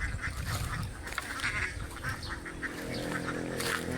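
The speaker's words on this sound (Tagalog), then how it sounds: "Ayan yung mga alagang itik ni tatay." Domestic ducks on a farm quacking in a busy flock, many overlapping nasal calls at close to moderate distance, repeated and irregular, with no talk over them.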